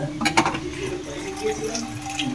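Water running from a household tap as a container is filled, a steady splashing flow with some clinking at the start, close by.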